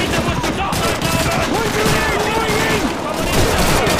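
Dense gunfire from Call of Duty 2, sustained bursts of automatic and rifle shots under busy game effects and faint voices, loud and continuous for a few seconds.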